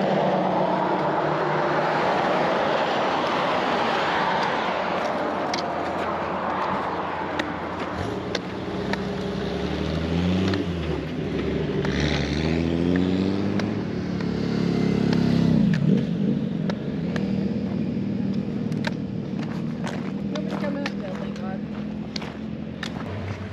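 Road traffic passing at the Unicoi Gap trail crossing, including a Corvette and a bike: a continuous, fairly loud whoosh of vehicles swelling and fading as they pass close by, with people talking over it.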